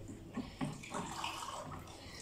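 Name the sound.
adding water to grated coconut by hand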